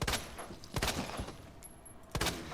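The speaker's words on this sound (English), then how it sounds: "I'm gonna take out this girl with the handgun" Three handgun shots in Resident Evil 2 fired at a tough enemy, sharp separate cracks spaced apart over a quiet background, fairly close.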